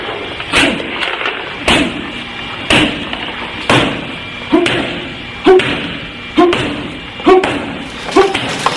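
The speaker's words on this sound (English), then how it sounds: "So you want to practice landing it at the end and giving yourself a little bit of snap off the end of that pad." Eight or nine sharp punches smack a boxing pad in a steady, evenly spaced rhythm, each a crisp close thud with a quick snap, and no talking between them.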